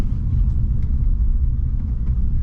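Interior of a BIGEV electric car while driving, with a steady low road rumble and a faint whir from the rear wheel and drivetrain, continuous and even throughout.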